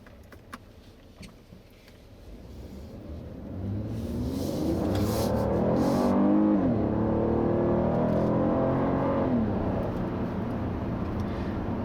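A 2017 Buick LaCrosse with its 3.6-litre V6 pulls away and builds revs, the engine note rising steadily from a low cabin rumble to a louder, sustained drone, heard alone without talk.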